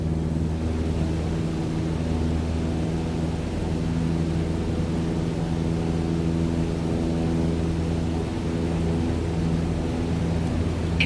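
A steady airplane engine drone in flight in Microsoft Flight Simulator holds a constant, even tone with a low harmonic hum and no change in pitch, running unbroken with no talk.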